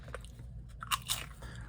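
Crunchy Cool Ranch–flavored Doritos tortilla chip being bitten and chewed up close, with a few short crisp crunches spread over a faint background.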